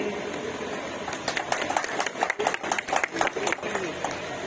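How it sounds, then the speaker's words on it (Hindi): Crowd applause at a railway station flag-off ceremony for a train at Orai, a dense patter of clapping building to sharper bursts in the middle, with voices and bustle underneath. "जोर से तालियां"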